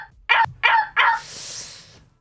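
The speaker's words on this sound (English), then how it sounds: "The bark, dog bark." A dog barks three times in quick succession, loud and close, each bark sharp and evenly spaced, followed by a fading noisy tail.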